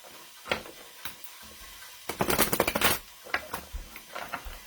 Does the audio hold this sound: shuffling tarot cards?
yes